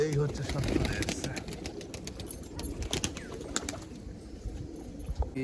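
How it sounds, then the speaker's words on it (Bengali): Show pigeons newly paired for breeding coo in a loft, low rolling calls mixed with light clicks and shuffling, a person talking throughout. "এই আজকের যে পায়রাগুলো জোড়া দেওয়া হয়েছে সেগুলো আপনাদের দেখাচ্ছি এখান থেকে"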